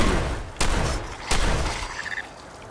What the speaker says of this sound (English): He got the sonic booms.